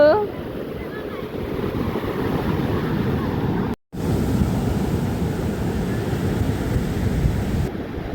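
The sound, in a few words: sea waves washing in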